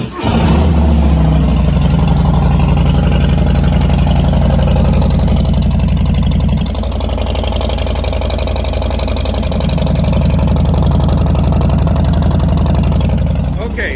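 A 2020 Harley-Davidson Low Rider S motorcycle engine with sport touring modifications fires up and runs loud and close, a deep continuous throb that dips briefly midway then settles back into a rough, steady idle.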